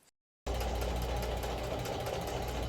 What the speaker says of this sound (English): I realized I didn't sew the short sides together yet, so let me do that real quick